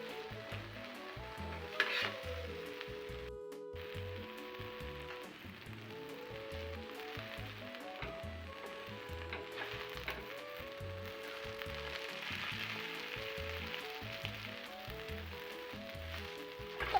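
An egg and cabbage snack frying in a pan until golden brown underneath, giving a soft, even crackling sizzle that runs throughout, with gentle music playing underneath.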